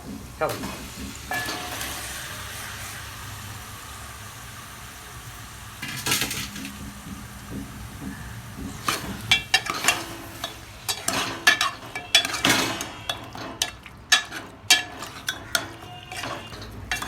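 Chicken rubbed with turmeric and salt drops into a hot pan with ginger paste and fries with a steady sizzle, while a spatula scrapes and clatters against the pan and the clinks grow busier toward the end.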